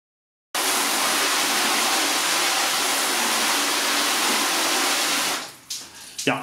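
Water from a rinse spray hits a car's waxed paint loudly and evenly for about five seconds, a steady rushing hiss, then cuts off, leaving a few drips and clunks.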